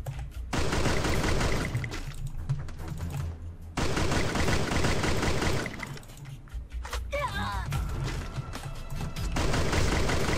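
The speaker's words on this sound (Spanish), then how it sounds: "Me va a empezar a disparar en 3, 2, 1" Rapid automatic gunfire in the shooter game Free Fire, dense bursts crackling almost nonstop with short breaks, loud and close, while a player talks excitedly over it.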